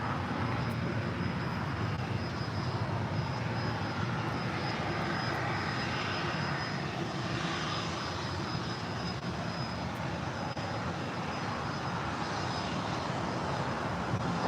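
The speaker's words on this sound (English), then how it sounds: "Next departure is American Airlines Flight 27. 787-8 Dreamliner heading back to Tokyo Haneda" An American Airlines Boeing 787-8 Dreamliner departing LAX for Tokyo Haneda, with a continuous heavy jet roar that holds loud and steady throughout, broadband and rumbling with no talk.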